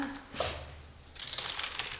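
Scissors cutting a strip of sewing pattern, giving two short bursts of crisp snipping and paper crinkling, close but quiet, with no talk.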